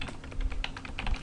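Rapid, light keystrokes on a computer keyboard while text is entered in a craft design program, steady clicking close up and fairly quiet, with no voices.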